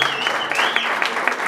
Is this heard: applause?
yes